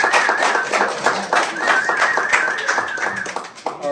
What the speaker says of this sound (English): So round of applause, folks, please.